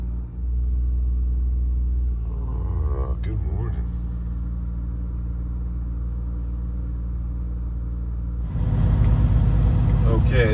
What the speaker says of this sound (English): Little warm out here, so we'll turn on the green APU